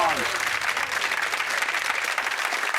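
A game-show studio audience breaks into loud, sustained applause and cheering, dense clapping filling the room without pause, with a voice heard over it at the start.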